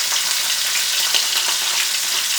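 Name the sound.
beef searing in a hot skillet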